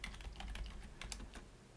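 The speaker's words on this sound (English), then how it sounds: "So just start typing there, Microsoft." Quiet, quick keystrokes on a computer keyboard while searching on a Windows 11 PC, a short run of soft, close taps at an uneven rhythm.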